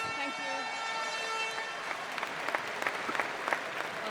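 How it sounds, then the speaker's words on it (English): Crowd in a swimming arena at the British Swimming Championships cheering and applauding a British champion after her race, a steady wash of clapping with occasional louder peaks throughout. "Let's have a big cheer for our British champion, Georgia Davis."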